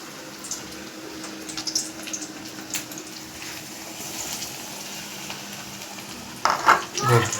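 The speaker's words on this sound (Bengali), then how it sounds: "আমার এখানে তেলটা গরম হয়ে গেছে, এবার একটা একটা করে আমি এগুলো তেলের মধ্যে দেবো।" Battered ash gourd fritters dropped one by one into hot oil, giving a steady low sizzle with a few louder bursts of crackling near the end, close by.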